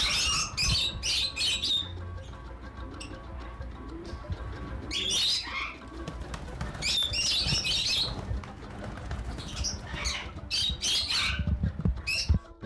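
Parrots and a Goffin cockatoo at a bird orphanage in Zimbabwe call repeatedly, with bursts of shrill chirps and screeches recurring at close range over a low background hum.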